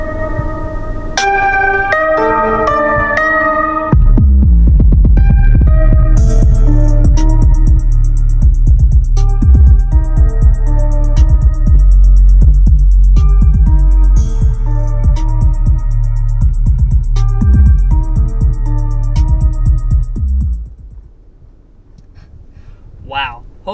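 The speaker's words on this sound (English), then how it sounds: "this sound system is legit" Music plays through the 3D Studio sound system of a 2022 Acura MDX Type S, first a bright bell-like melody, then heavy deep bass beats with crisp highs, loud and full inside the cabin, fading out near the end.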